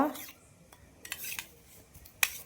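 Curd being stirred into cake batter in a bowl, a utensil scraping and clinking against the bowl in a few short, quiet strokes with soft gaps between.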